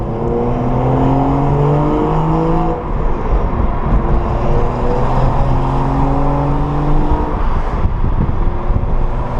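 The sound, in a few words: N55 engine car with catless downpipe exhaust driving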